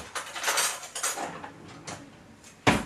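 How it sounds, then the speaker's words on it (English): Spoon clinking against dishes and jars while preparing peanut butter and jelly overnight oats with chia seed jam, a few light taps and scrapes close by, ending in a sharper clatter. "So let me get a spoon."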